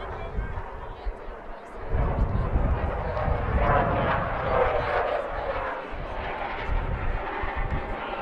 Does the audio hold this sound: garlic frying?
no